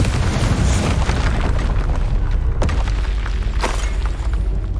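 Confringo fire-blast spell in Hogwarts Legacy, a loud, continuous booming rumble with sharp bursts near the middle and later, sustained explosive roar filling the whole stretch without speech.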